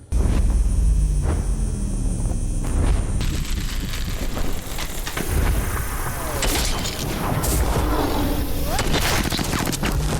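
Gunfire from a firefight scene in the film The Guest: loud, dense bursts of shots and booms with shattering debris, sustained throughout over other film sound.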